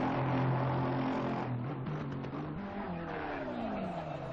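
A GT3 race car in Assetto Corsa Competizione at Monza spinning out, engine droning with shifting pitch and tyre noise, continuous and fairly loud throughout.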